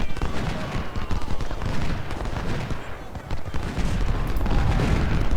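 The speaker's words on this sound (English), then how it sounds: "Pelham, open up on Taylor. A couple good volleys and this unit should be withdrawn" Musket volleys and artillery fire from a Ultimate General: Civil War battle, a dense, loud crackle of rifle shots layered with deep booming cannon blasts that rolls on continuously without pause.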